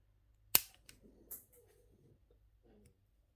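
Jewellery wire snipped with cutters while making a pendant: one sharp, close click, followed by a softer click and faint handling of the wire.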